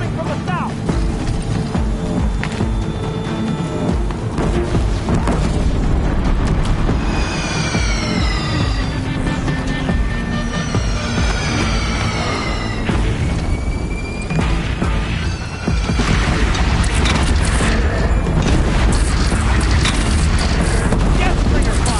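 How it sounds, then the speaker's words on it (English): Dense battle noise from a Deathbringer machine in Horizon Zero Dawn: sustained loud gunfire and booming explosions, with whooshing, pitch-sweeping projectile sounds, continuous throughout and mixed with game music or effects. "Deathbringer fire incoming!"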